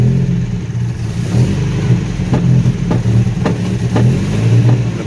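A 1975 Chevy LUV engine runs rough and uneven at a loud, close idle, struggling to stay running and in need of carburetor work, with a few sharp clicks or pops breaking through the steady rumble.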